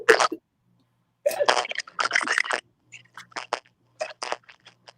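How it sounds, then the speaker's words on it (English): Crunching like someone chewing, several short crisp bursts in irregular clusters with silent gaps between, close and fairly loud. "I hear some crunching."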